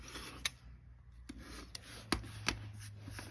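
Quilt block fabric is trimmed along its edge with soft, intermittent cutting and rubbing strokes, quiet and close, heard alone over a faint steady hum.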